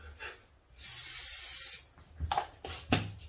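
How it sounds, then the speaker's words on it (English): A close aerosol can sprays in one long hissing burst of about a second, followed by a few shorter puffs and faint rustling. "now give it a little bit of the spray"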